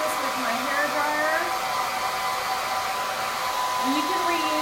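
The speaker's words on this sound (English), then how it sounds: "Okay, I'm just drying this with my hair dryer." A hair dryer blows steadily and loudly at close range, drying a chalk transfer on a wood board for Christmas decor, with a continuous whirring hum throughout.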